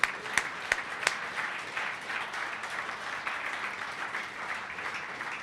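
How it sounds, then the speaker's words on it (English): An audience at an Opportunity Coalition event gives a round of applause, opening with a few sharp, close claps before settling into steady, moderate clapping that carries on alone. "let's give her a round of applause"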